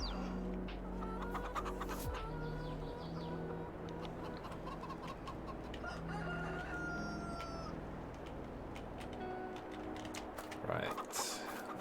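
Chickens cluck and a rooster crows on a Farming Simulator 22 video game farm, a steady bed of poultry calls with tonal crows drifting in and out at moderate level throughout.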